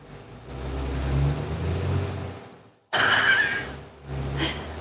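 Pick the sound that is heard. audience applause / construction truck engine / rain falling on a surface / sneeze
construction truck engine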